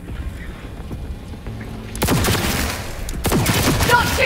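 Gunfire from a weapon in Cyberpunk 2077 on Xbox Series X. After a quiet start, a loud rapid burst of shots erupts, a second burst follows a moment later, and some faint talk sits underneath.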